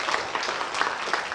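Brief scattered clapping from a lecture audience in a hospital hall, a modest crowd applauding with uneven, pulsing bursts at moderate distance.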